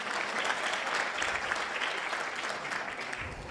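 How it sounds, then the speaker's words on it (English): Audience applause at a Polokwane breakfast event welcoming Miss South Africa 2022, a steady dense round of clapping filling the room throughout, fairly loud and continuous with no talk over it. "Can we clap hands for them?"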